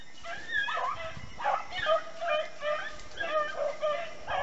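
Pack of beagles baying on a rabbit chase in fields beside a food plot, overlapping yelps and howls at a moderate distance, continuous and fairly faint.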